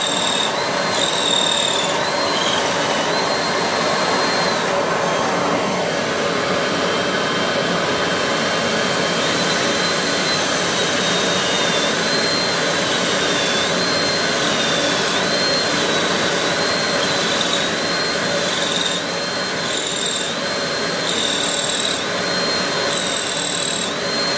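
Loud, steady whine of a power tool running continuously with a dust vacuum's rushing drone during furniture assembly, shifting pitch now and then, with no talking.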